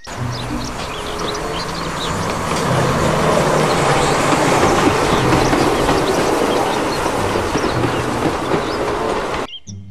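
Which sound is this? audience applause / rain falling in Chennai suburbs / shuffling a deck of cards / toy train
toy train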